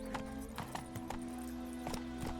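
Horse hooves clip-clop steadily in The Witcher 3: Wild Hunt, a run of evenly spaced, fairly close hoofbeats over a constant low game ambience.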